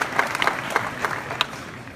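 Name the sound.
audience applause at hackathon opening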